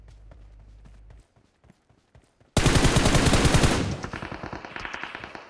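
Heavy-weapons gunfire in PUBG Mobile: after a quiet stretch with faint ticks, a sudden loud automatic burst hammers out rapid shots for over a second, then trails into fainter repeated shots.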